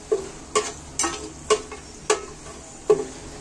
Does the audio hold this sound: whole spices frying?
yes